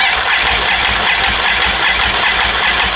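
A Can-Am Outlander ATV engine being rebuilt after a wreck runs close and loud in a continuous mechanical drone, pulsing a little as it cranks, with no talking.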